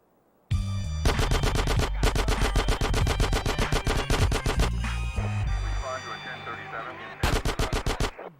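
Gunfire in GTA San Andreas on PS2: loud, rapid automatic bursts that are nearly continuous, a short lull with lighter crackling, then another fast burst of shots.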